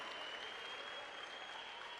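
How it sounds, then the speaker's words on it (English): An audience at a big wave surfing awards event applauds steadily, a dense wash of clapping that holds at an even level from start to finish without talk. "One more round of applause for Aaron Gold."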